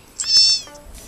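A cat character in the Nintendogs + Cats game on a Nintendo 3DS gives a single short, bright electronic meow, clear and alone.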